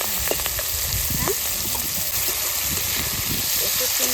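Fish fries in a pan with a continuous close sizzle and small bubbling crackles, with some low background voice or kitchen activity underneath.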